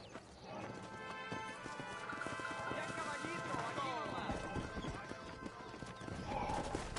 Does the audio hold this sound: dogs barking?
no